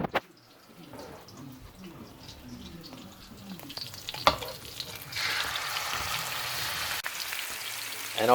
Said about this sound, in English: And obviously stir fry it.